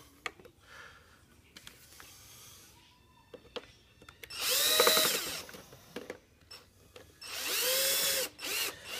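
A power drill drives screws into a hoverboard during a battery replacement, with two loud whirring bursts of a few seconds each. Quiet handling clicks and taps fill the gaps between them.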